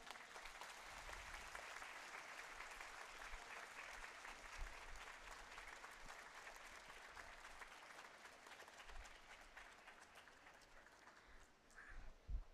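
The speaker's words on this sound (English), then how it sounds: "Let's thank them again with a huge round of applause." A large audience applauds steadily after a musical meditation performance at a festival session, dense clapping sustained throughout at moderate distance with a slight swell near the end.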